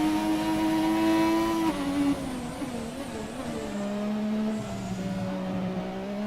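A Formula 1 car engine in the racing game F1 2017 screams at high revs, shifting down through gears with pitch drops and burbles, loud and continuous with no talking.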